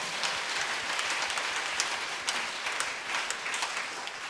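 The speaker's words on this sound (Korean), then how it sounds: "우리 박수로 하나님 경화 드리겠습니다" Sustained applause from a church congregation during a Wednesday worship service, dense steady clapping filling the space at moderate volume throughout.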